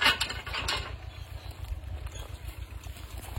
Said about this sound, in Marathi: या शेतात आहे ना ट्रॅक्टर सर्व काहीतरी पेरणी सुरू आहे